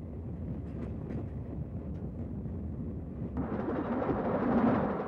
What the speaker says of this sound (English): Let's take one last train ride on the Pacific Rail Society chartered Snowflake Special